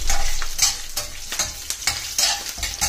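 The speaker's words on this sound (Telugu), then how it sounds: "వేగిన తర్వాత మనం ముందరే కట్ చేసుకుని పెట్టుకున్నాం కదా పచ్చిమిరపకాయలు వేసుకోవాలి." Green chillies frying in hot oil for sweet potato pulusu, a steady close sizzle broken by repeated scraping stir strokes about every half second, no voices.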